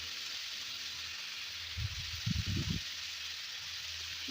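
Mixed vegetables with salt and turmeric powder fry in a pan for spinach ghonto, a soft steady sizzle with a few brief louder bursts of stirring and clatter partway through, close by and without talk.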